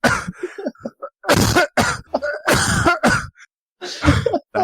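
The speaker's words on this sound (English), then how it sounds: "Are you actually coughing or are you just fucking with me?" A man coughs and clears his throat repeatedly in loud, rough bursts close to the microphone, with brief pauses between them.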